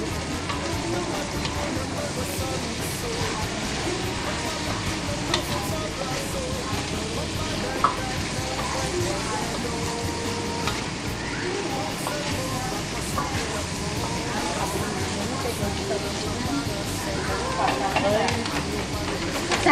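Cabbage stir-fries in a pan for pancit canton, with a continuous sizzle and scattered clinks of stirring. A person talks over the cooking throughout.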